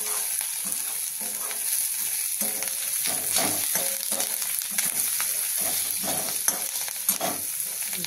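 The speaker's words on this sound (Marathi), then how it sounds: "आता आपण ह्यामध्ये कढीपत्ता घालू आणि कोथिंबीर। हे छान परतून घेऊया।" Onion and tomato sauté with curry leaves and coriander, a constant close sizzle with repeated scraping stirs of a spoon against the pan, no voices.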